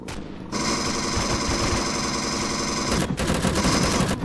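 Rapid automatic gunfire from the sci-fi survival game Empyrion rattles in a dense, loud sustained burst that cuts off briefly, then resumes.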